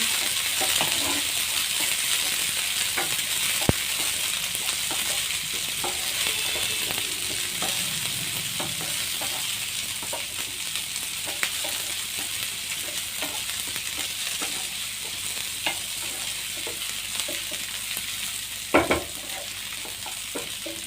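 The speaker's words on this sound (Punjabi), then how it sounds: "ਇਹਦੇ ਵਿੱਚ ਅਸੀਂ ਪਾਵਾਂਗੇ ਜੀ ਕੈਪਸਿਕਮ ਹਰੀ ਮਿਰਚ ਇਹਨਾਂ ਨੂੰ ਭੁੰਨ ਲਵਾਂਗੇ" Onions, capsicum and green chilies fry in a pan for macaroni, giving a steady close sizzle throughout with frequent scraping stir strokes and occasional sharp utensil knocks against the pan, with no talking.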